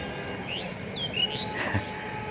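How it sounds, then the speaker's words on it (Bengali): A large flock of egrets gathered across an open field near the Sundarbans gives off scattered, faint chirps and calls over a steady outdoor background. "চলতি পথে দেখা হলো বিশাল একটি বকের ঝাঁকের সঙ্গে"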